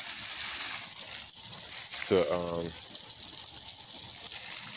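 A garden hose runs while plants are watered outdoors, giving a steady hiss of spraying water under a voice, with a short gurgling burst midway.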